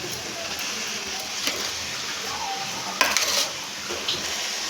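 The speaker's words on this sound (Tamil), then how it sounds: "இப்போ ஸ்பீடில் வச்சு நல்லா வதங்கணும்" Onions, tomatoes and green chillies sautéing over high heat in a pan, a constant broad sizzle with a few clinks and stirring scrapes, a voice faintly underneath.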